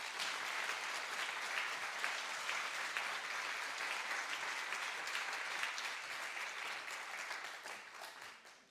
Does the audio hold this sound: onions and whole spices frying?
no